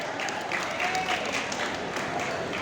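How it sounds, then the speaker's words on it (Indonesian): Energetic audience applause at a school farewell thanksgiving ceremony, brisk continuous clapping close and loud, with a faint voice under it. "Tepuk tangan untuk kita semua ya."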